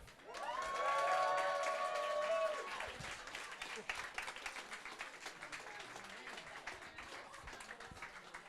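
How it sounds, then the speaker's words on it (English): Live audience at a World of Warcraft community event in London bursting into loud, dense applause with cheers and whoops for a few seconds, then thinning to scattered claps that fade away. "Can I please get a massive round of applause for Bears Adventures, Jedith, and K-Jack?"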